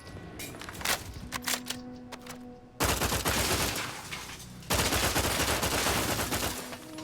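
Bursts of gunfire in the video game The Outer Worlds 2, sporadic shots at first, then dense rapid volleys like a fusillade that swell loud and continuous with footsteps mixed in.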